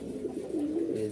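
Racing pigeons kept indoors give a low, soft continuous coo, close and unaccompanied by other sounds.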